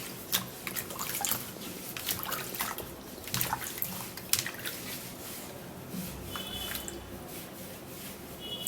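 A sweet melon is washed under running water, a close, soft mix of trickling, splashing drips and wet squishing as it is handled, with no voices.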